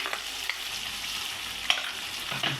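Ground masala paste being stirred into a pan of eleven mixed vegetables frying for a Marathi bhogi bhaji, a steady close sizzle broken by a few sharp scrapes and clinks of the spoon, with no talking.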